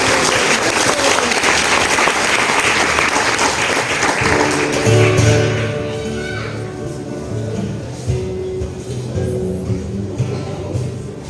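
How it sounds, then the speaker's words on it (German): An audience welcomes a children's music-theatre duo with loud applause and some cheering, dense for about five seconds and then thinning as tonal music and scattered voices take over. "dann geben wir ihnen einen Applaus"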